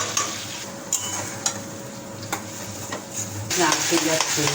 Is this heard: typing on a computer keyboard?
no